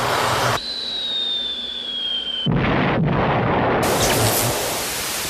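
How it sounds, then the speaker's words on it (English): A carbon dioxide fire extinguisher blasting out in loud, broad hissing bursts that start and stop abruptly, with a steady tone audible during a pause between discharges. "A carbon dioxide fire extinguisher."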